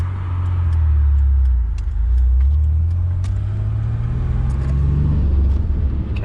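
A cold Ford Bronco II with a 2.9 V6 engine idles high, giving a loud, steady low rumble that rises and falls slightly without any break.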